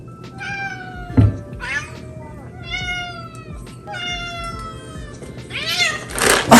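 Several cats meow repeatedly, close and loud, in eager overlapping calls while waiting for a freeze-dried raw food topping, with a soft thump and faint household noise between cries.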